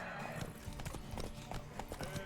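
Horse hooves clip-clop steadily on the ground in The Witcher 3, with a faint neigh and quiet game sounds mixed in underneath.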